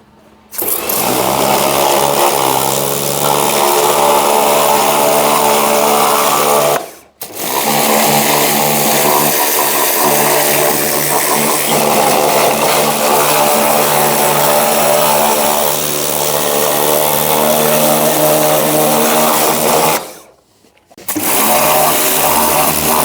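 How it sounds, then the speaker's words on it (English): A jet washer blasts a Rover 75 engine during degreasing, a loud, continuous motorised roar with spraying hiss that runs for long stretches and is broken by two brief pauses. "Right, time to start jet washing."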